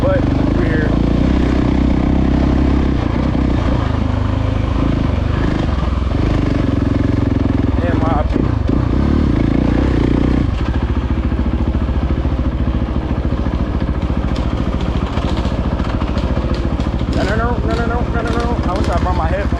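Dirt bike engines run on the trails of Hollerwood Adventure Park in Kentucky, a loud, constant close engine drone with rises and falls in revving and some clatter, while a voice talks over it at times.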